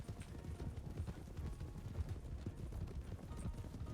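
A horse in Red Dead (RedM) trots with a dense, steady clip-clop of hooves that stays fairly close and even throughout, with no voices over it.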